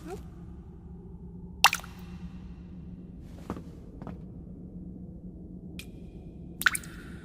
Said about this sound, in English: Our ears are instead greeted with the uneven drips of water playing in the background.